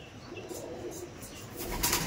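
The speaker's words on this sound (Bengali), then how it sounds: "আসুন, পায়রা উড়ান দেখুন, নিয়ে যান।" Pigeons take off and fly at a pigeon seller's place; soft, fairly distant wing flaps flutter over a quiet outdoor background.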